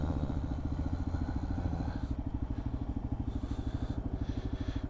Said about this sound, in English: that's one of the great things about being on a motorcycle